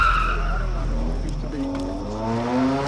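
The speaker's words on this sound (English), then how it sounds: "Suddenly, a car approaching the roadblock has done a rapid U-turn" A car brakes and makes a rapid U-turn at a roadblock on a main route into Kruger, its tires skidding and squealing with rising engine tones.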